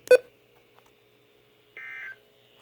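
Electronic test tones of a weekly Emergency Alert System warning test: a sharp loud blip at the start, a pause, then a steady two-tone alert beep lasting about half a second, with no voices.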